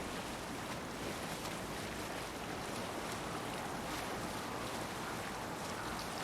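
Steady wind and wave noise while sailing in a video game, a dense broadband rush that stays loud and unbroken throughout with no voices over it.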